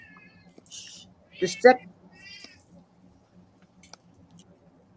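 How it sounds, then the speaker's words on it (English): A house cat meows loudly twice in quick succession, close and sharp, over a quiet room with a faint hum and a few soft clicks, while a voice briefly speaks in the background. "Meowing very loudly, so I muted myself."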